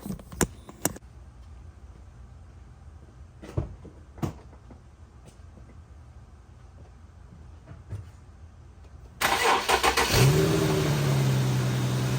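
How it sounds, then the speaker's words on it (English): A 2008-2013 Infiniti G37S coupe engine cranks and catches, then settles into a steady, loud idle after a stretch of quiet clicks and knocks, after an oil change. "Start the engine"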